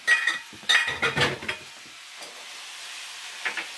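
Food sautéing in a pan for old-time beef stroganoff: a few sharp bursts of stirring and clinking at first, then a softer, steady sizzle that continues alone.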